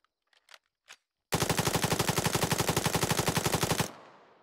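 Gunfire in the video game Arma 3: a few faint clicks, then one long, loud, close burst of rapid automatic fire with evenly spaced rounds for about two and a half seconds, ending in a short decay.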